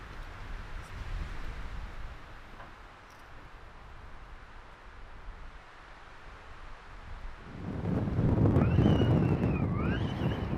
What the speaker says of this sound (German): Ein eisiger Wind hat am nächsten Morgen die Wolken weggeputzt